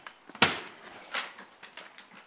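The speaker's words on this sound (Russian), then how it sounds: "Дверь открывается." A door of a barrel-shaped sauna opens with a sharp latch click followed by a softer creak and rustle, fairly close and quiet overall.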